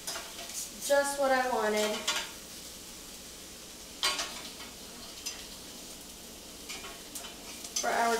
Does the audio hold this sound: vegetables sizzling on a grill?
yes